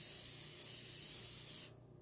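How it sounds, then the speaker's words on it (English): A steady, continuous hiss of a LaserBond 100 aerosol spray can held close, spraying an even coat on metal, cutting off abruptly near the end. "go side to side and spray a nice even coat"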